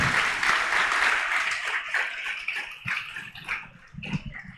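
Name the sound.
congregation applause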